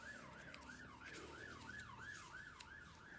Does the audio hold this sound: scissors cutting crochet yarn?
no